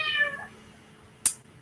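A house cat meows in a short, clear call at a yoga class, followed by a brief sharp noise; no one speaks.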